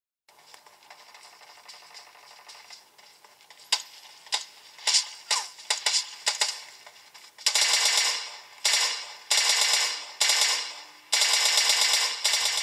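Gunfire in the mobile game PUBG Lite, starting with scattered single shots and short bursts, then several long rapid automatic volleys, loud and crisp with brief pauses between them and no talking.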